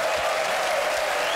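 A studio audience at a satirical TV comedy show applauds loudly and densely in one continuous, close wash of clapping.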